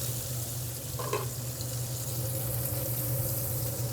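New York strip steak sears in a hot pan with a steady, close sizzle that holds evenly throughout, a brief clink near the start, no talking over it.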